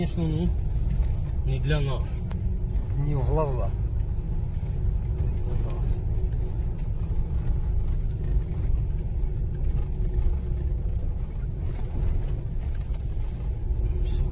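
Military armored vehicles rolling forward past a knocked-out tank, a low continuous engine rumble under a voice, with a couple of brief higher whines.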